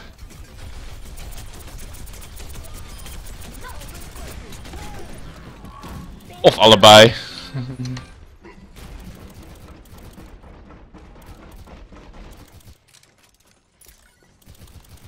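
A short, loud burst of rapid gunfire in the Overwatch beta erupts midway, with someone talking quietly before and after.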